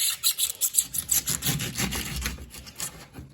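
Rhythmic rough scraping strokes, close and moderately loud, as a knife saws through tough fibrous artichoke leaves, slowing toward the end.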